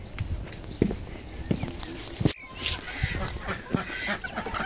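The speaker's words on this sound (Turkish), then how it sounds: "Hadi tavuklar bekliyor, acıktılar" Chickens and other fowl on a village farm call out hungrily in a busy outdoor chorus of honks, clucks and squawks, with scattered close calls and a brief sharp knock midway.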